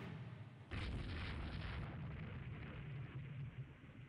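Heavy naval gunfire in the warship strategy game Rule the Waves 3, a sudden deep boom that rolls into a long, dense rumbling roar, heard alone.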